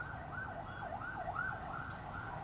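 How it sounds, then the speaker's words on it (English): A wailing emergency siren rises and falls steadily, fairly close, over a low rumble of traffic. "Sorry, there's a siren in the background that feels quite loud."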